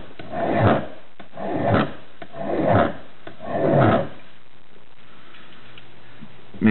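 Steel crampon points being sharpened with a hand file, four slow rasping strokes in an even rhythm, each a rough scrape followed by a short pause, then quiet.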